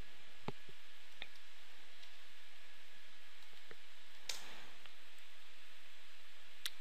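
A computer mouse clicks several times at a desk while upgrading WordPress, sharp isolated ticks spaced irregularly and fairly faint, with a brief rustle near the middle and no talking.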